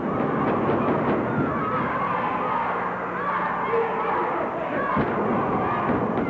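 A wrestling arena crowd roars and cheers steadily at a 1993 NCWA tag match between the Heartbreakers and the Yates Gang, a dense, loud wash of noise that holds throughout, with commentary voices mixed in.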